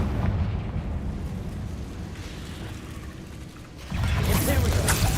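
A Confringo blasting curse from the Hogwarts Legacy video game: a sustained, rumbling roar of a magical explosion that swells into a louder, sharper burst near the end.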